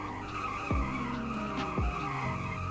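A sheriff patrol car in a video game, a four-speed with a 150 mph top speed, brakes hard twice in succession, each stop bringing a sharp tire skid over a steady engine drone, loud and close.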